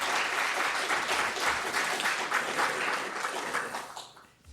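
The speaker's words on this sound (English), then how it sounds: "So give her a round of applause." An audience at a seminary convocation gives the longest-serving faculty member a round of applause, a full, even burst of clapping that holds steady before fading away at the end.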